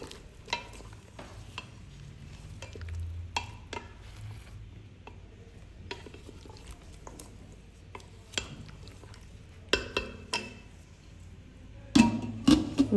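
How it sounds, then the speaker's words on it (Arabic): Couscous being stirred in a cooking pot, a string of close scraping and tapping strokes against the pot with a light sizzling frying sound underneath, growing a little busier and louder toward the end, no talk. "نحركها"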